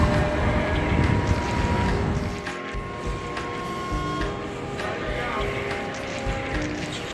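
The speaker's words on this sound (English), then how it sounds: "I'm just waiting for the train doors to open" A train stands idling at a station platform, giving a steady low rumble and hum with faint mechanical tones, while a murmur of voices runs through the background.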